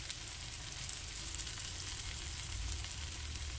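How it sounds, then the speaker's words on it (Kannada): Ground masala sizzles steadily in a hot pan, a close, even frying hiss that carries on without a break and with no voices. "ಈ ಮಸಾಲ ಈಗ ಇದರಲ್ಲಿ ಫ್ರೈ ಆದರೆ ಪರವಾಗಿಲ್ಲ, ಅದು ಕಪ್ಪಾಗೋದಿಲ್ಲ"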